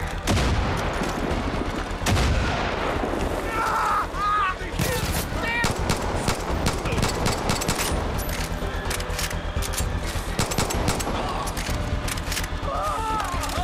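Gunfire in the Far Cry 5 video game on PS4, rapid bursts and single shots crackling over one another, loud and near, with someone talking over the shooting and occasional heavier booms.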